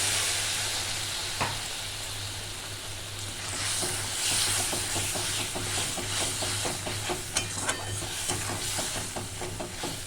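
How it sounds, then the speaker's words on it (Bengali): A spice paste of ground masala and chilli fries and is stirred in a pan for a thin bata fish curry, making a continuous loud sizzle and hiss close up, with scraping stir strokes throughout and no talking. "দু মিনিট আমি একটু ভালো করে কষিয়ে নেব"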